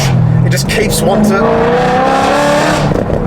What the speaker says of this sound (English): In my opinion, it's a top 5 sounding V8 of all time, maybe even top 3